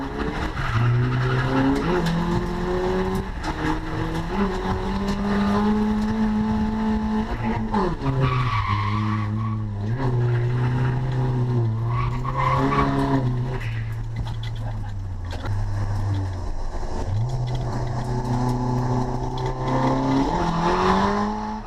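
Race car tires squeal continuously as the engine holds high revs through a long drift on a track day, loud and close, with pitch shifting as the throttle varies.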